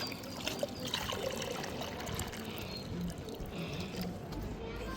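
Water poured quickly into an empty bird water bowl outdoors in summer heat, a steady splashing trickle running through the whole stretch amid background noise and faint voices.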